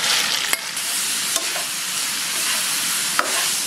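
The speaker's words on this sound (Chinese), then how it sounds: "五花肉下锅" Pork belly frying in hot oil in a wok for fried bean sauce: a loud, dense, continuous sizzle close by, broken by a few sharp spatula clicks against the wok.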